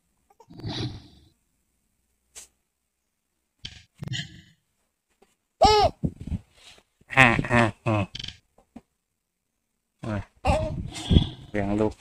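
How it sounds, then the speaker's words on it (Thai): A young child babbles and vocalizes in short bursts in a room, with long quiet gaps between the sounds. "มีเสียงเด็กเข้ามา"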